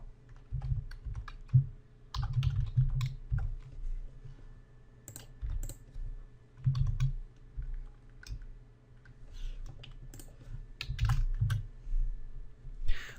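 Computer keyboard keys clatter in quick irregular bursts while an Excel formula is typed, close and clear with short pauses between runs of keystrokes and no talking.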